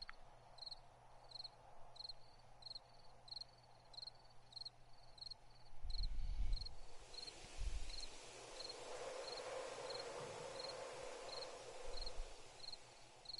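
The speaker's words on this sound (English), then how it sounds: "I like the crickets chirping." Crickets chirping in the 7 Days to Die video game, a steady, regular pulsing chirp that carries on throughout a quiet night ambience, with low rumbles and rustling at times and no speech.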